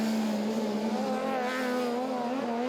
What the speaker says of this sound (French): Une très spectaculaire finale en cross-car senior, gagnée par Klaassen